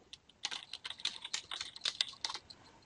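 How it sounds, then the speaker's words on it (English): Quick, close keystrokes on a computer keyboard as a name is typed into a calendar filter, a rapid irregular run of light clicks with no talk. "type in the name"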